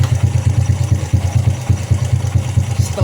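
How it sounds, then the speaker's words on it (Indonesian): A Honda Supra motorcycle engine runs steadily and loud up close, its fast even low-pitched pulsing carrying a slight clatter, with no speech over it. "bisa dengar sendiri suara motornya aja udah beda ya"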